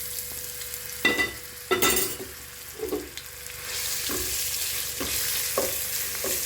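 Ginger garlic paste frying in oil for a mango pickle, with a few sharp stirring scrapes and clatters at the start, then a steady, moderate sizzle that swells and holds.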